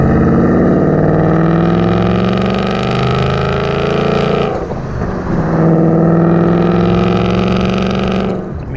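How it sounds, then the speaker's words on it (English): A 2018-2023 Mustang GT V8 fitted with an MBRP 3-inch cat-back street exhaust and 4-inch polished quad tips, revving up with a loud, rising drone, briefly dropping at a shift before climbing again, close and alone. "Get up to the RPM band, it does definitely get louder and you get a little more of that crisp kind of sound out of it"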